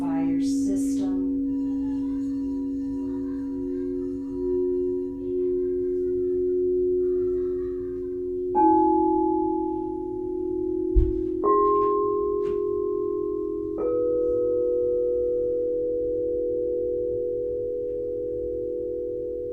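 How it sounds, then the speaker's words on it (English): Pure crystal singing bowls ring in long, steady sustained tones, with new strikes near 8.5, 11.5 and 14 seconds layering brighter tones over the lingering hum, calm and resonant with no talking. "allow this amazing sound of the pure crystal bowls to purify your system."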